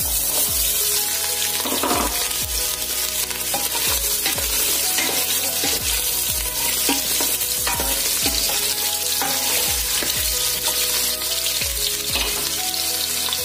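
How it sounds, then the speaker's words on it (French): Carrots fry in a little oil in a saucepan. The hiss and crackle are loud and close and never let up, with repeated stirring clatter and scraping throughout. "je fais d'abord revenir les carottes"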